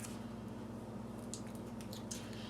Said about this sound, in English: So let me give it a really good stir.